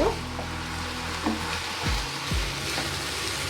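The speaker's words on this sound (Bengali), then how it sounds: "আমি এভাবে করে নেড়ে নেড়ে ভাজা ভাজা করে নেব" Malabar spinach fruit stir-fries dry without spices, giving a soft continuous sizzle close by with a few scraping stirs of a spatula against the pan, and no voices.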